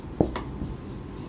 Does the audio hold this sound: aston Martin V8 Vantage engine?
no